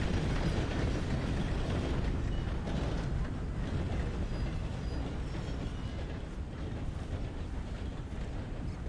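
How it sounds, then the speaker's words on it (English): A loud train rolls past in Red Dead Redemption 2, a steady, heavy rumble with rattling cars, close by and constant throughout, with no talking over it. "that train's loud."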